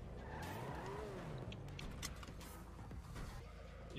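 Zentorno sports car in GTA roleplay skidding with squealing tires over a continuous engine roar, loud and close throughout.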